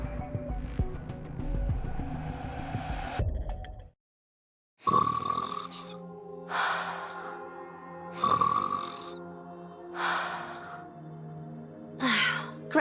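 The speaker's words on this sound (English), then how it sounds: "Gretel and I think Ave's snoring is goddess level. We can hear it all the way from over here." A game character snores in Goddess of Victory: Nikke, a series of loud, drawn-out rasping breaths with gaps between them, heard alone.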